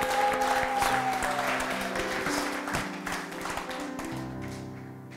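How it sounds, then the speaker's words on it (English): A church congregation applauding during a service, a steady wash of many hands clapping at moderate distance, gradually thinning, with sustained musical tones and a brief high note underneath. "Shall we just give God an applause as they do so?"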